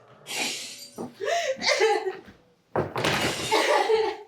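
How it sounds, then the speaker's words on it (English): Car headlights are smashed in a horror film scene, with sharp glass breaks and shattering bursts in two loud clusters separated by a short pause, mixed with clinks and scuffling. "you're smashing on my headlights, man."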